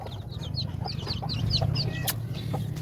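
Newly hatched native chicks in a coop cheep in quick, high, repeated peeps, close and moderately loud over a low steady background rumble.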